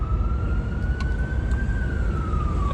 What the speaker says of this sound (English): The ambulance blowing.